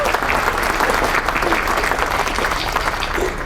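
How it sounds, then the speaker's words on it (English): Sustained, dense clapping from the audience at a ukulele show at sea aboard a cruise ship, loud and even for several seconds, fading slightly at the end. "Big round of applause for everybody,"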